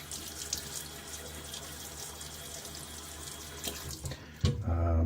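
Cold, lukewarm hard water runs from a tap into a sink to wet the face before a shave, a steady hiss of flow with splashing, then a louder gush near the end.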